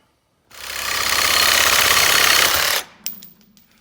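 A power cutting or grinding tool bites into metal on an intake manifold from a 1967 IH Loadstar 1600 truck. It gives a loud, steady, harsh roar for about two seconds, then cuts off, followed by a few faint clanks.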